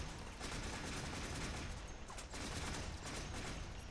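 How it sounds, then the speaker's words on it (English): Rapid gunfire from a sniper and other weapons in the sci-fi shooter Warframe, a dense, continuous burst of shots filling the whole stretch at steady loudness. "I'm being sniped by that guy."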